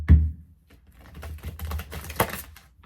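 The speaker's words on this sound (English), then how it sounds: "They want me to do another shuffle." Tarot cards are shuffled close by, giving a soft initial thump and then a run of quick riffling flicks and taps, with no voices.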